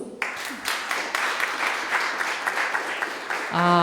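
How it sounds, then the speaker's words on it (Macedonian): A crowd breaks into applause, a dense wash of clapping that carries on steadily for several seconds before giving way to music at the end. "Може еден аплауз"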